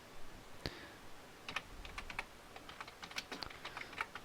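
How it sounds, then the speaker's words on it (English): Computer keyboard keys tapped in short irregular bursts of clicks, close and fairly quiet, with no talking. "So I type that in."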